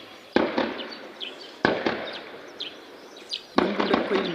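Gunfire rings out during a battle between M23 rebels and FARDC soldiers near Rusizi, with three sharp single shots spaced about a second apart over a quiet outdoor background with faint chirps.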